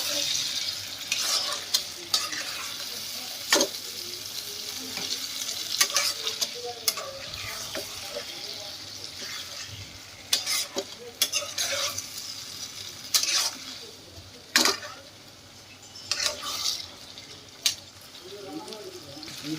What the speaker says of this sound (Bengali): এবার এটাকে দিয়েও একটু ভালো করে আমি কষিয়ে নেব।